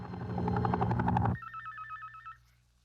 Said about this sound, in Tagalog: Okay, cellphone.